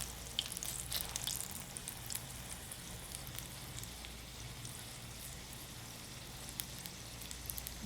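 Egg roll cooking in a pan without deep frying, Mumbai street-food style keema baida roti, giving a soft, steady sizzle with faint crackles throughout, quiet and continuous with no talk.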